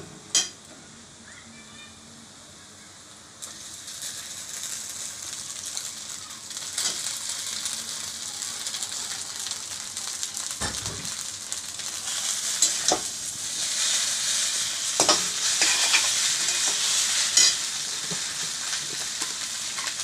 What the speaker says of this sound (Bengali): এখন এর মধ্যে আমি চাউমিনটা দিয়ে দেবো